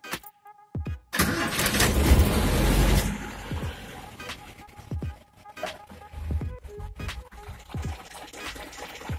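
A car engine cranks and catches, roaring loudly for a couple of seconds before settling into a rougher, uneven running idle, heard close with some clanking nearby.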